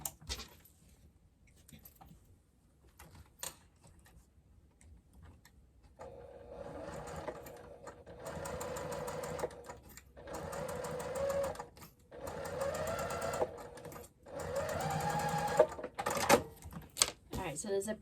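A sewing machine runs in steady bursts while basting a zipper in place along the top of a front panel for a crossbody bag; the stitching comes close and fairly loud in several runs, with faint handling sounds between.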